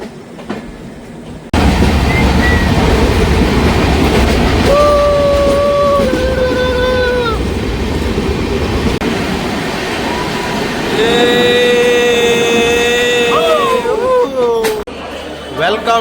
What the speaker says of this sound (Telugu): ఇదంతా జమ్మూ తవి స్టేషను.